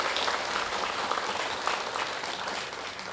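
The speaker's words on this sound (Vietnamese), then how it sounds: "Xin cho một tràng pháo tay để cảm ơn ca đoàn" A church congregation at a Vietnamese thanksgiving Mass claps for the choir, a moderately quiet but sustained patter of many hands, even and unbroken throughout.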